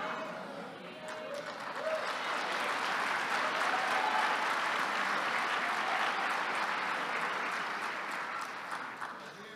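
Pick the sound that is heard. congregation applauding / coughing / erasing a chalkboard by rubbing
congregation applauding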